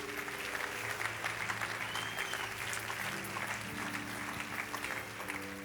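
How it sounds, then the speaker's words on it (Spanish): A church congregation at a live service breaks into continuous applause, dense clapping sustained throughout, with a low steady musical tone underneath and faint crowd voices mixed in. "Denle un aplauso al Señor."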